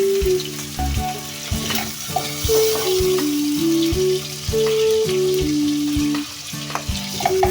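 Peas and chicken masala frying in a pan for matar gosht, stirred now and then. A loud, steady frying crackle sits under prominent background music, with occasional stirring knocks and no talking.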